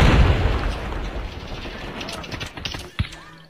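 Grenade explosion in Call of Duty, a loud, rumbling boom that decays slowly, followed by a sharp, close burst a few seconds later amid game noise.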